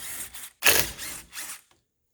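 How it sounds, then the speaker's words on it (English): Guide pin bolts on the front brake caliper of a 2013 Fiat 500 loosened with a 13 mm wrench, heard as three short close mechanical bursts of ratcheting and metal-on-metal scraping with brief pauses between. "get yourself a 13 mil and fire off the guide pin bolts"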